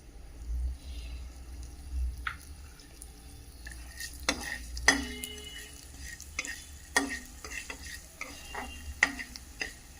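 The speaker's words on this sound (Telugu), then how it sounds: "ఇప్పుడు ఇదే ప్యాన్లో ధనియాలు, జీలకర్ర వేసి వేయించుకోవాలండి." Coriander seeds and cumin roast in a pan, with a soft sizzle underneath and sharp scraping, stirring clicks of a spatula rising intermittently over the quiet background.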